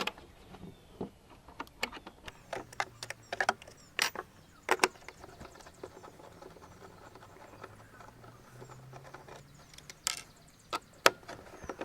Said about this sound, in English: to take off the gauge, what we're going to do is we're going to loosen up these nuts